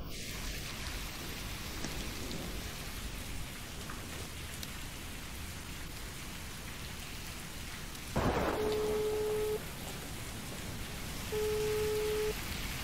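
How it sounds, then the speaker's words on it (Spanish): Heavy rain pours in a steady, dense hiss, broken by a sharp crack of thunder partway through, followed by two short electronic tones. "Está lloviendo a cántaros."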